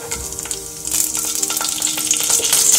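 Chili dropped into hot oil with cumin seeds fries loudly and close by, a dense crackling sizzle that grows stronger and stays steady throughout, with no voices.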